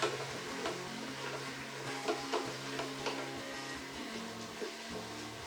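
Al pastor meat and pineapple sizzle in a pan while being stirred, a steady close fry with repeated scraping strokes at an irregular rhythm.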